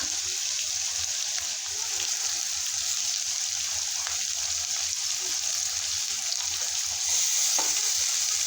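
Onions sizzle and fry steadily in a pan, a dense continuous crackle with faint stirring scrapes, close and fairly loud, with no talking.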